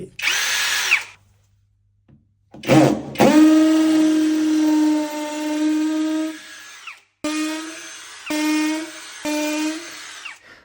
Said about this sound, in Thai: แล้วก็ตามด้วยมาเจาะผนังปูน สว่านนี้จะมี 3 ระบบนะครับ มีระบบกระแทกเจาะปูนด้วย